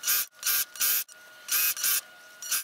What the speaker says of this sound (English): I'm just going to do it on my serger